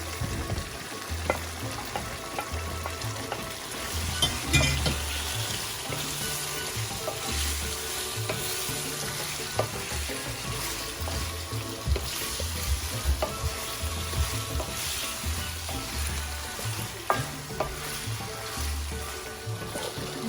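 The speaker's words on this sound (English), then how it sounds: "And now I add my prawns back to this." Prawns fry in a pan with Trinidad pepper sauce and a drop of soy sauce, giving a steady close sizzle with occasional stirring scrapes for about twenty seconds, with no talking.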